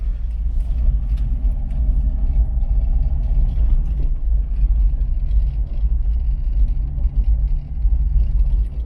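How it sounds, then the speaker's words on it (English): A classic Fiat Panda 4x4 driving on the road, its small engine giving a steady low rumble with road noise throughout, heard from inside the car. "Let's take this wonderful car for a drive."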